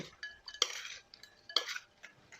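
KFC-style fried chicken pieces being tossed and mixed in a bowl, giving two short bursts of clinking and scraping against the bowl, fairly close with quiet gaps between.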